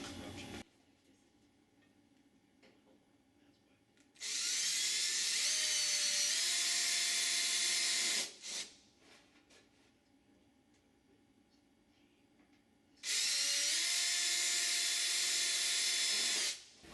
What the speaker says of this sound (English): use our number 40 drill bit and drill the pilot holes